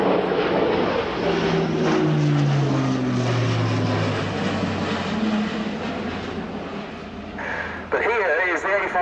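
An Airbus A400M Atlas four-engine turboprop military transport flies a display at the RIAT 2017 air show, its loud propeller drone sliding down in pitch as it passes, with a commentator speaking over it throughout.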